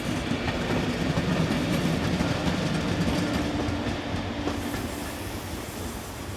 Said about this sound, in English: we see 1116186 departing on the rear of this train bound for Vienna.